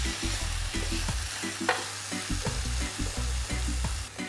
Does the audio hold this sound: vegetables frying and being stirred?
yes